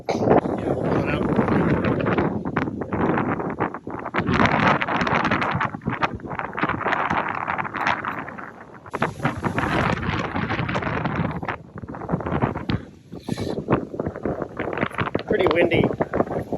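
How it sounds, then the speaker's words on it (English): Gusty outdoor wind buffeting a microphone at a broadhead-versus-field-point pig shooting test, rumbling in bursts with brief lulls, while people talk through much of it. "Pretty windy."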